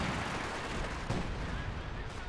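Low angle artillery barrage in the video game Company of Heroes 2: a dense, continuous roar of shelling and gunfire, with one sharper blast partway through, rumbling steadily throughout.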